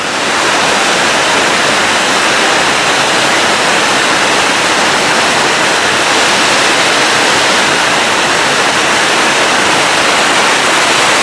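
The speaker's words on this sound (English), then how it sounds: "So that water's not flowing as heavy as it did a few weeks back, but it's still going pretty good." A creek runs steadily over and around fallen logs, its broadband rush loud and continuous throughout with no pauses or voices.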